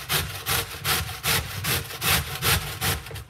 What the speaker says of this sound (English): grate it like this